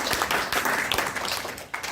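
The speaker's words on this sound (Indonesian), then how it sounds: "Berikan tepuk tangan" Audience clapping at a business presentation, a short, steady burst of many hands applauding together, fairly close and even.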